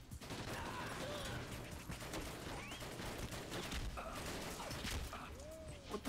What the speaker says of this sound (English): Oh, they're shooting from the top.